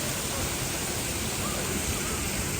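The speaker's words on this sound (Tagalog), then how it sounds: "Tapat ka na sa shower." Shower water runs steadily at a resort pool area, a dense continuous hiss filling the whole stretch at close range with no breaks.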